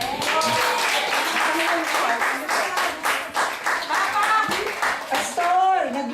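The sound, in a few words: applause from church camp gathering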